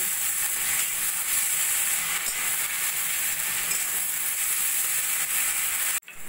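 Ginger-garlic paste frying with onion, salt and turmeric in a pan for mutton kosa, a loud, continuous sizzle heard alone, ending in a sudden brief cut.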